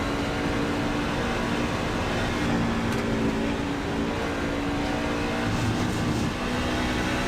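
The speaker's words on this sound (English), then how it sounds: "Walker blipping the throttle." NASCAR Craftsman Truck Series race truck at Spa, its engine droning steadily with throttle blips, heard at a distance as a continuous loud mechanical roar with no talk.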